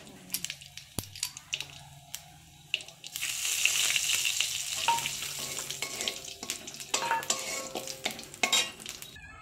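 Cumin seeds tempering in hot oil for dal, a bright sizzle that surges partway through and then crackles steadily, with utensil clinks and stirring close by.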